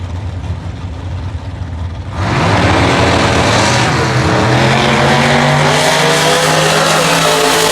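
Super gas drag race cars on qualifying runs at the Rocky Mountain Nationals, an engine abruptly rising to a loud, sustained roar that stays steady with rising harmonic tones, heard close and without talk.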